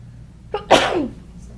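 A single loud sneeze up close, a short intake followed by a sharp burst, then quiet.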